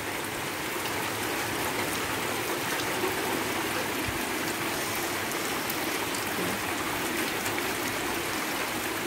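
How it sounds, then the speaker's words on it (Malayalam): Heavy rain pours steadily while runoff streams through a channel beside a house yard in Kerala, a dense, continuous wash of hiss and gurgling water with no voices. "ഇപ്പോഴും നല്ല മഴ പെയ്തുകൊണ്ടിരിക്കുന്നുണ്ട്"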